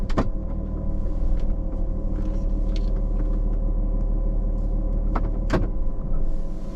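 A van in neutral rolls downhill on a gravity hill, giving a steady low engine-and-road rumble throughout, with a few sharp clicks and knocks from inside the cabin.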